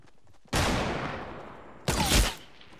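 Two loud sniper rifle shots in a Fortnite match, the first a sharp blast with a long decaying tail, the second arriving about a second and a half later, with no talking over them.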